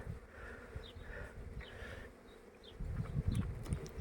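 A steady, droning hum of many honeybees buzzing close around a hive, with low rumbling bursts and scattered higher whines as individual insects pass.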